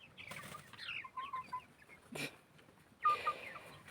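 Chickens clucking softly as they dust bathe, with short scattered clucks and a louder squawk near the end, heard close by on a quiet farmyard.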